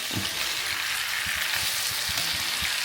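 Steady, loud sizzling and spitting of steak frying in a hot pan with garlic, with faint clinks and stirring sounds underneath.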